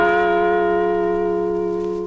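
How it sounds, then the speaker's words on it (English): A replica of the Liberty Bell rings in a single sustained, resonant strike, its rich metallic overtones decaying slowly and loud with no voices over it. "That's the sound of the new Liberty Bell, an exact replica of the original Liberty Bell"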